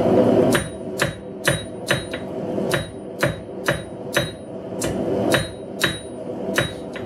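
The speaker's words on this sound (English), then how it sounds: "And smooth it out with the flat face of your hammer." Sharp ringing hammer blows on hot metal while hand forging a wall hook, about a dozen strikes at an uneven working pace, close and loud, each leaving a brief metallic ring.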